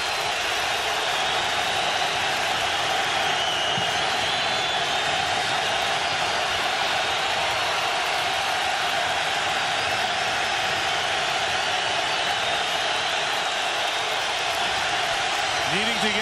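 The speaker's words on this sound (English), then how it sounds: "Here comes the crowd for 3rd and 15." Loud stadium crowd roaring steadily at an NFL game between the Saints and 49ers before a third-and-15 play, a dense continuous wall of noise with a commentator talking over it.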